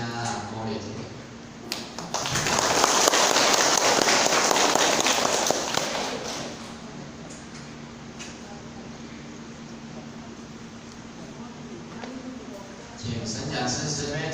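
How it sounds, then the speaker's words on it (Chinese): An assembly gathered for a class-opening ceremony at a Buddhist hall breaks into warm, dense applause lasting about four seconds, set between stretches of a speaker's talk. "咱大家以热烈掌声鼓励一下"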